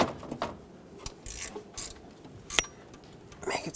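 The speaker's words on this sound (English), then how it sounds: "we can tighten this bolt over here." A ratchet snugs an alternator bolt on a 2012-2020 Nissan Pathfinder, giving quiet, irregular clicks and short metallic bursts up close.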